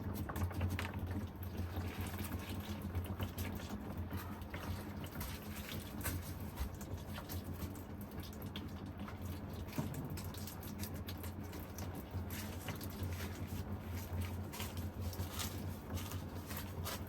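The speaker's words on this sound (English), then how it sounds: "It's gonna leak in many places. Try to catch it as much as possible." Transmission fluid drains from a 2018 Ford F250 Super Duty diesel in a steady, quiet trickle and patter of liquid into a catch pan, continuous for the whole stretch with no talking.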